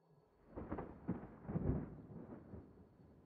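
Thunder rumbles in a stormy scene in the video game Doors: Paradox, a low rolling roar that swells in several waves over a few seconds, fairly close and without voices.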